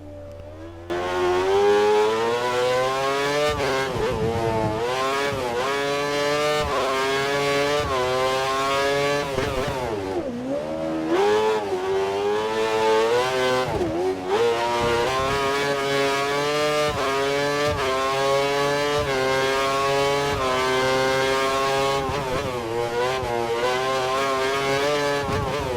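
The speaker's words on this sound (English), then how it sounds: "that was the glorious sound of the V8 engines" High-pitched Formula 1 V8 engines scream and rev repeatedly, rising and falling in pitch as they accelerate and shift, loud and continuous throughout.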